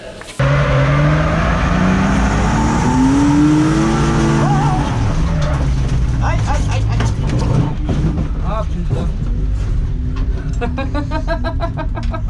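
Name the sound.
BMW 328i E36 engine driving off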